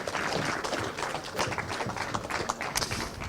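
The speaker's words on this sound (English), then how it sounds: "please give a huge round of applause for 3rd place, number 95, Harper Das" Crowd applause at a British Kart Championship podium for the third-place driver at Whilton Mill, a fairly distant, steady patter of clapping with a few sharper claps standing out.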